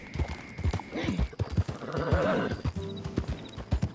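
Horse hooves clip-clop rhythmically in Red Dead Redemption 2, with a neigh rising partway through, close and fairly loud against light game ambience.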